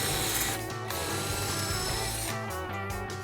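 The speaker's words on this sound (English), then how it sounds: "It's the drill." An electric drill runs close and loud in short bursts, its motor whirring and ratcheting with slight pitch shifts during furniture repair work on a vintage easel and Z bed.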